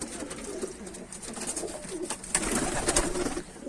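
Homing pigeons of the Cik Cik breed coo steadily in a loft, several birds calling close by in low, throaty rolls amid a faint background hiss, with no speech.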